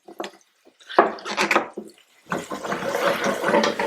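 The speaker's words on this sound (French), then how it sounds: "On va déglacer au vinaigre." Vinegar poured into a hot pan to deglaze it, a burst of hissing, bubbling sizzle with short sputtering crackles, rising into a denser steady fizz toward the end, close and fairly loud.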